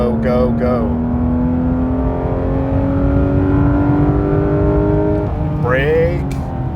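Car climbing a winding mountain road on the Cherohala Skyway in the Smoky Mountains, its engine note rising steadily as it builds speed, then dipping and revving again, with someone talking over it throughout.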